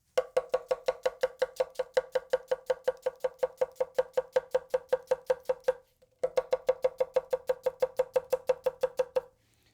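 A Takayuki VG10 Nashiji kiritsuke knife chops rapidly through onions on a cutting board, making a fast, steady train of crisp close-up knocks with one brief pause. No one talks.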